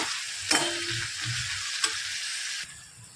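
Onions and tomatoes sauté in a pan for a dhaba-style methi masala: a close, continuous sizzle with a few scraping stirs of the spoon, fading a little at the end.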